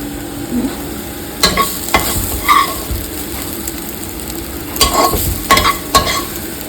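A spoon stirs carrot and vermicelli payasam simmering in milk in a pan, giving a few scraping, clattering bursts against the metal over a soft bubbling background.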